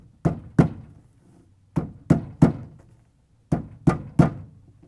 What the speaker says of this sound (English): you can use a plastic hammer to gently tap it in